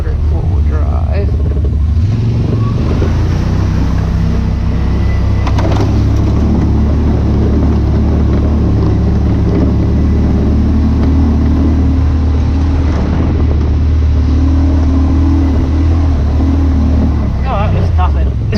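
Off-road vehicle engine droning steadily as it climbs a steep wooded trail in four-wheel drive, a loud continuous low rumble with occasional rattles and knocks, with people talking over it.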